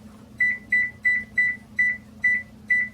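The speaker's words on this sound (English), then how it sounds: "now you can set the timer for 15 minutes" Oven timer buttons beep while a timer is set for a pumpkin pie, giving seven short, evenly spaced electronic beeps over a low steady hum, close and clear with no talk.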